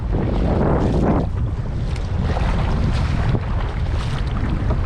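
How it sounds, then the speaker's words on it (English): A kayak pushes straight through ocean surf, with loud continuous wind buffeting and rushing water and wave wash all around, no voices. "I'm facing against the waves. So I just cut right in front of them, or I mean right through them"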